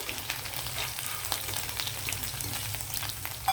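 Dried prawns fry in hot oil in an Andhra-style home kitchen, giving a steady, close, moderately quiet sizzle and crackle with faint stirring and no voices.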